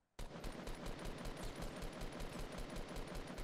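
Rapid, evenly spaced gunshots firing at an enemy in Fortnite, a fast continuous burst of sharp cracks starting abruptly and running steadily for over three seconds, fairly quiet overall.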